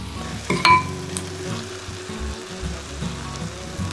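Japanese-style steak sizzles on a wiped-clean iron griddle, a steady close crackling hiss with a brief louder spatter early on, continuing evenly with faint kitchen clatter.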